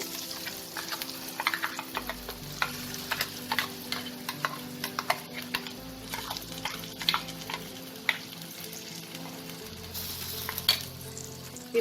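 Ground chana dal paste fries in hot oil seasoned with asafoetida for dal puri, sizzling steadily while a utensil scrapes and taps against the pan again and again, close by.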